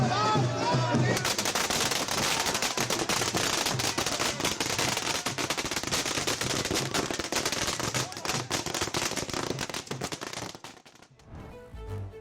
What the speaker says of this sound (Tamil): ஐக்கிய ஜனதாதள கட்சி தொண்டர்கள் பட்டாசு வெடித்தும்